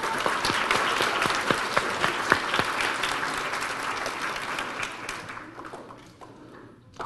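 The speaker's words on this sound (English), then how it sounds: "Can I have another round of applause for my teachers" School audience at a DARE program at Scott Lane applauding the teachers, crisp clapping close by that gradually thins and fades toward the end.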